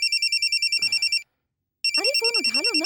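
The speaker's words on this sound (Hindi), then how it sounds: "अरे फोन उठा लो ना, वरना बार बार यूं ही बजता रहेगा।" A telephone rings with a rapid electronic trilling, pauses briefly, then rings again while voices talk over it.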